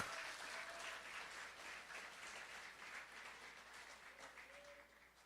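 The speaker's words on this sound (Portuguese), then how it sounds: "Quantos podem aplaudir o nome do Senhor?" A church congregation at an Easter service applauds in a continuous, softish wash of clapping that slowly fades toward the end, heard from a distance in a large room.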